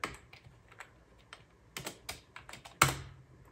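Keystrokes on a computer keyboard as a command is typed into a Windows command prompt during a Windows 11 install on a Mac Pro: a run of separate clicks in bursts, ending in one louder, heavier key press, close and alone.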